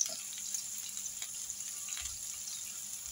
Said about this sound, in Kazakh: Мінекей осылай қуырып аламыз